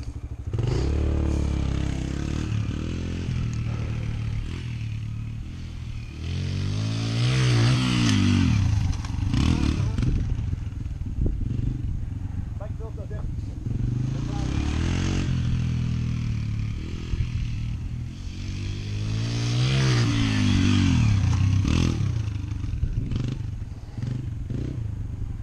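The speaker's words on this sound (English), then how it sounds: "Rev it up around that turn and just nail it in second." Small motocross bike on an MX course revving hard in second gear, the engine swelling and dropping in two long surges as it rounds a turn and takes a jump, loud and close throughout.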